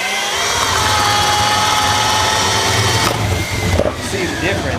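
A 1-inch Bosch Daredevil spade bit bores through wood under a power drill, a loud steady whining motor with grinding chatter that cuts off near the end as the bit breaks through.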